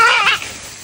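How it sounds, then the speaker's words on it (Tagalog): A goat on a Philippine farm gives a short, bright bleat that fades quickly, close and loud, with a faint rustle after it. "Ayan yung kambing na kakatayin namin."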